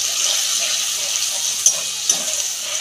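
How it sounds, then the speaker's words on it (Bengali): Bowl-rinsing water goes into a pan of tomato for chana paneer, giving a steady, close watery hiss with sizzle and two small sharp clinks near the end, with no talking. "এই যে বাটি ধোয়া জলটা দিয়ে দিচ্ছি"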